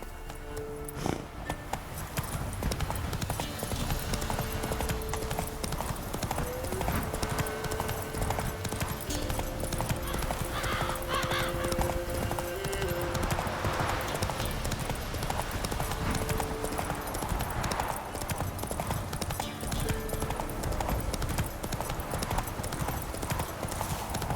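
Roach, the horse in The Witcher 3: Wild Hunt, gallops with rapid, steady hoofbeats that run unbroken for the whole stretch over a constant backdrop of game ambience.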